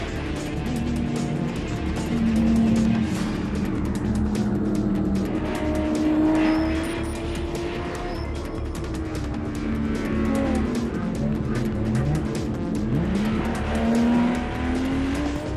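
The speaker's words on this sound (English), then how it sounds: "the cars race through the bus stop, a series of quick 90-degree turns" Race cars on a road course with a bus stop chicane of quick 90-degree turns, engines loud and continuous as they brake and power through, with pitch rising and falling across gear changes and faint tire squeal.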